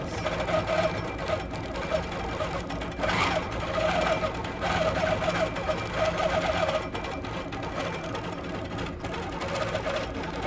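A sewing machine runs continuously while free-motion quilting a wishbone design, its needle producing a fast, even mechanical chatter with slight surges in speed, close and fairly loud throughout.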